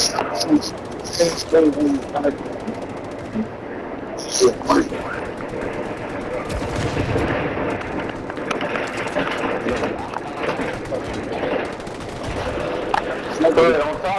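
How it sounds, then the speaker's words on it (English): Gunfire in the video game Call of Duty, with bursts and single shots crackling over a steady background of game noise while players talk over it. "somebody's shooting me, bro"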